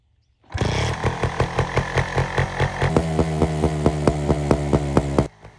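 A Montesa motorcycle engine, just after a minor carburetor repair, fires and runs with the choke on. A loud, close, raspy two-stroke-like putter with a steady pulsing beat settles into a fast idle, then cuts off abruptly.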